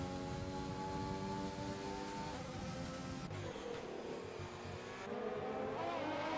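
Race cars in F1 2020 at the Italian Grand Prix, a steady loud engine whine with shifting pitch as a Mercedes brakes late, continuous throughout with no talk.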